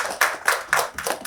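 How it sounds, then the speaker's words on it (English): Audience applause at a corporate banking and finance event on stage, in four short bursts of clapping that each swell and fade over about a second. "Huge round of applause."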